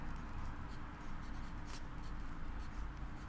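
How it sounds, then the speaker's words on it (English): A pen or pencil scratches steadily across paper while marking up a drawing, a close, soft, continuous scribble with faint rhythmic strokes over low background hum, with no voice. "So I will write here lot of"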